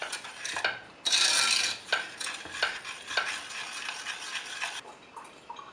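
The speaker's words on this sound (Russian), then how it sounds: "Быстро все размешиваем и выключаем огонь." A spoon stirs honey into hot sugar syrup in a small pot on the stove, giving quick scraping swirls and light ticks against the metal over a soft sizzle, close and fairly quiet with no talk.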